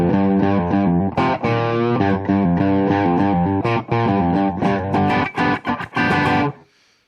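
An electric guitar plays chords through a Boss Super Overdrive pedal with the drive turned down, giving a lightly gritty tone. Several strums ring out loudly, then the last chord is cut short near the end.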